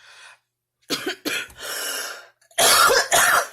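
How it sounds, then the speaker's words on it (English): A person coughs several times up close, harsh throaty bursts in two clusters with a brief breath between, loud and with no talking. "Don't mind my cough."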